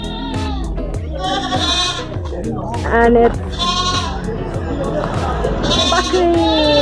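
Goats in a village bleat loudly and repeatedly in overlapping wavering calls, close by, while someone talks and imitates the bleating with his own voice.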